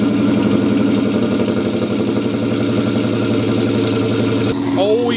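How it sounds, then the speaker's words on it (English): A turbocharged Datsun engine idles after a cold start, a steady, close, rumbling idle with a fast rhythmic pulse, and a brief higher whir appears near the end. "You always gotta love a good cold start."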